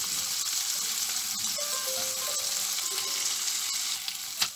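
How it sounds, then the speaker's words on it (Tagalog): Garlic and onion frying in a pan for beef shank afritada, a soft, steady sizzle with light stirring and a couple of sharp clinks toward the end. "Hanggang sa maging golden brown din ang ating bawang at sibuyas."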